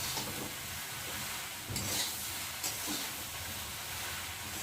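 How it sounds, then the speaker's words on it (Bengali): Shapla water lily stems frying with turmeric in a pan, a continuous close sizzle and hiss broken by a few scraping stirs of a spoon. "নাড়া দেবো।"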